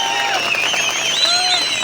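Crowd at an outdoor political rally in Bhalessa applauding steadily, a broad wash of clapping and cheering with voices mixed in throughout.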